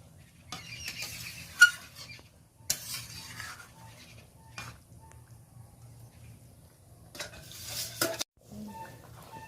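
Fried fish is stirred into a curry in a pan, giving intermittent scraping and stirring strokes with brief bright clatters between quieter stretches, and no talk.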